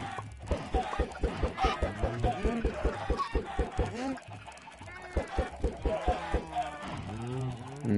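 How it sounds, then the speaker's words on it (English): Minecraft chicken clucks repeat in quick bursts across the whole stretch, with short pauses and a fairly loud, close game sound. "I don't know if you guys saw that chicken sneak into the pen with the black sheep"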